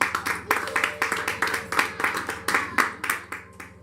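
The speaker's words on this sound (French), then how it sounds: "Acclamons la parole du Seigneur" A church congregation claps along in quick, steady rhythm during a Sunday service, the loud, close applause continuing throughout with voices mixed underneath.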